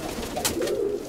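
An Armenian tumbler pigeon coos softly in a short, low, throaty phrase, close to the microphone against a quiet background with a faint rustle.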